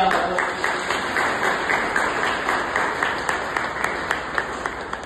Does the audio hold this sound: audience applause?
yes